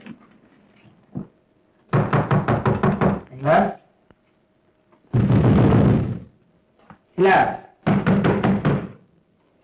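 Knocking on a wooden door in an old Tamil film scene: a rapid burst of about six loud raps, a pause, then a second volley later, with people talking between the knocks.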